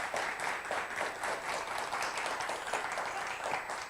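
Sustained applause from an audience at a virtual anniversary celebration honouring the Indian armed forces, a steady dense patter of many hands clapping at moderate level throughout with no talk over it.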